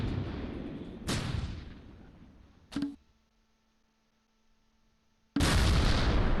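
Explosions and gunfire in the Close Combat WWII game at Gateway to Caen, 1944: a rumbling blast that fades, a sharp crack with a short tonal ring, near silence, then a sudden loud roaring burst.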